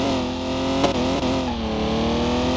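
A BMW E46 M3 engine in a racing video game revs and climbs steadily through the gears, loud, droning and close, with brief dips at the shifts and no talk over it.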